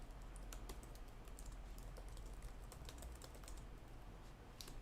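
Fingers type on a computer keyboard in a quiet room, a run of soft irregular clicks with short pauses between bursts, close and faint, no voices.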